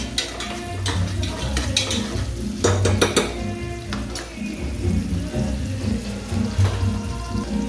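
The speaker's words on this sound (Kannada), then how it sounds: "ಈರುಳ್ಳಿ ಹಾಕಿ ಮಿಕ್ಸ್ ಮಾಡೋಣ" Onions are stirred in a pot for chicken sambar. Close, busy clatter and scraping of a spoon against metal rises over a low, gentle frying sizzle.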